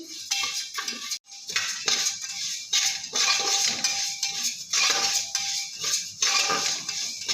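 Scraping and clinking of a spoon stirring rice being dry-roasted for puffed rice in a metal pressure cooker, repeated strokes in a steady rhythm, close by, no talking.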